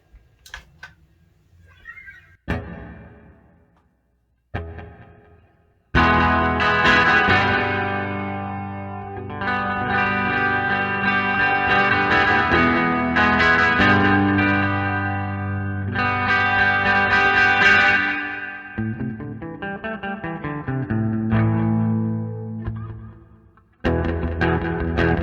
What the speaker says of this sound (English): There's a delay, a tremolo, I think, some sort of, a whole bunch of other stuff.